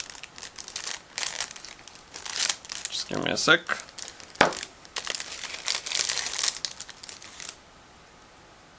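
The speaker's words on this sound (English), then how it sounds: "next we have another sealed plastic bag, so again I'm going to use scissors in order to open it." Crinkling and rustling of a sealed plastic bag of model kit parts with a few sharp scissor snips and tearing sounds, close up, with a brief spoken remark partway through.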